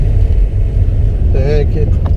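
A BMW E36 325 tds diesel engine revs up, a steady low rumble running throughout with a short rise near the end, while someone talks over it.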